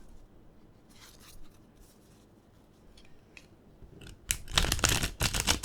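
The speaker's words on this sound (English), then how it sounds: "I'm going to try to reverse shuffle it now." Soft, scattered taps of tarot cards being handled give way to a quick, close burst of crisp riffling as the deck is reverse shuffled.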